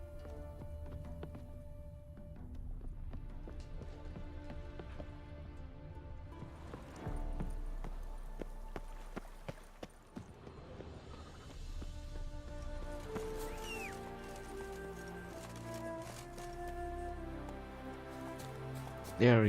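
Roach the horse from Witcher 3 moving through the game world, steady hoof clip-clops at a trot under game music and ambient sound, with rain-like patter and a rider's brief words.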